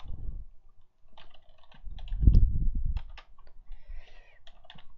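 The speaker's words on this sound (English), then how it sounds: "Typing, not my best." Irregular clatter of computer keyboard typing up close, short flurries of key presses with brief gaps, a denser burst in the middle and lighter taps toward the end.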